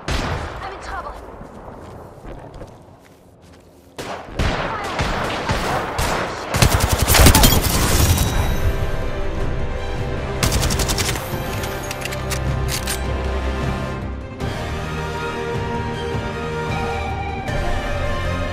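Gunfire in the video game Apex Legends, with sharp shots and rapid automatic bursts that swell into a loud, sustained exchange over booming game effects and background voices.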